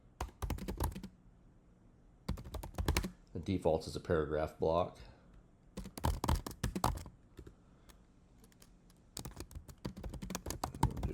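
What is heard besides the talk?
typing on a computer keyboard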